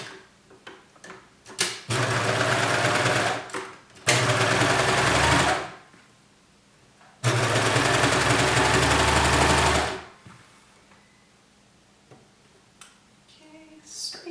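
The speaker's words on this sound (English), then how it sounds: "Let me sew this seam." A sewing machine runs a shirt seam in two long, loud bursts separated by a pause, with shorter clicks and starts around them, close up and without talk.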